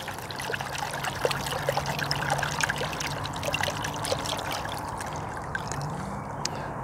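Water trickles and splashes as it is poured to rinse soil from hop plant roots for hydroponic growing, a continuous close dribbling with small splashes throughout.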